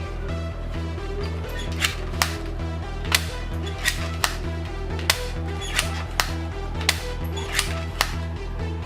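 A toy shotgun plays an electronic firing effect: a looping buzzy electronic pattern with sharp, regularly spaced bangs, roughly one every second, loud and close.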